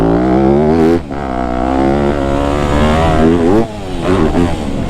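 A 2025 Yamaha YZ250F dirt bike engine roars loud and close while freeriding, its pitch rising and falling with throttle blips and two brief dips.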